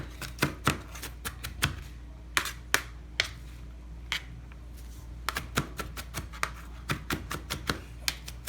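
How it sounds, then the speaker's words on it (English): Close, crisp knife strikes chopping onions on a board come in quick bursts separated by short pauses, with no one speaking. "See what I'm doing, y'all? Chopping, y'all."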